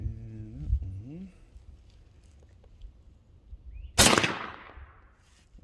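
A Hatsan Hercules Bully .25 caliber air rifle fires once, a sharp, close crack with a quick fading tail, preceded by a person's voice and quiet room noise.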